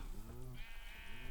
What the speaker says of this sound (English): Okay, let's get some sheep here.